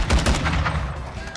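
Rapid gunfire in Call of Duty: Modern Warfare, a quick burst of close, punchy shots in fast succession over about a second, fading into a softer tail.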